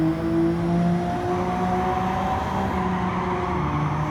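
Race car engine in Gran Turismo 7 lapping Monza, a loud, steady, high-revving drone that holds continuously throughout with no voices.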